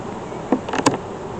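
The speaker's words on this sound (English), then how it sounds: "A lot of bees." Honeybees at an opened hive during a fall inspection make a brief buzz with a couple of sharp, close flybys over a low hum.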